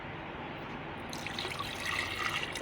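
Water is poured into a jug while lemon soda water is being made, giving a steady close trickle that swells and brightens toward the end, with no talking over it.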